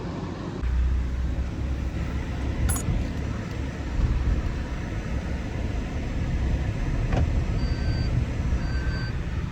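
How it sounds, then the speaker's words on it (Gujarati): A car pulls out of a parking spot, its engine rumbling low and steady up close throughout, with a few faint clicks and muffled voices in the cabin. "તો ગાડી પાર્કિંગમાંથી બહાર કાઢી લીધી છે"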